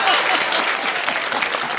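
An audience at a Hindi poetry recital breaks into dense, sustained applause, a continuous wash of many hands clapping at a steady loud level.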